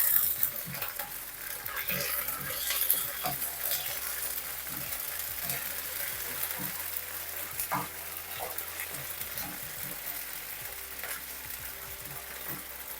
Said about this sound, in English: I'm going to add in a ginger garlic paste. Fry this for a little while.